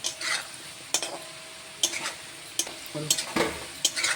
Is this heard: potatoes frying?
yes